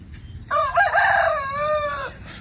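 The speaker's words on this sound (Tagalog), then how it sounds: "Ingay ng manok." A rooster crows loudly and close on a farm, one long drawn-out call over a faint background of clucking chickens.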